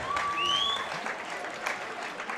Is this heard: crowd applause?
yes